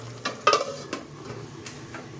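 Egg curry with chopped coriander simmers quietly in a pan, giving a soft, low sizzle broken by a few light clinks and scrapes of a utensil against the pan.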